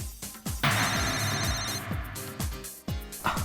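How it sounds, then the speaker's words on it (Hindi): A telephone rings with a sustained electronic trill during a hotel celebration, set against a busy mix of music and room noise with repeated low thumps. "अरे यार, ये फोन तेरा पीछा नहीं छोड़ने वाला।"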